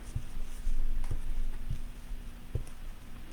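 Marker coloring a white card background, soft squeaky strokes repeating at a steady, irregular pace over a constant low hum.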